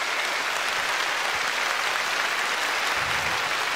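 Wrestling event crowd clapping backstage in a poll about Hiromu Takahashi, a steady wash of many hands clapping at an even level for several seconds with no talk over it.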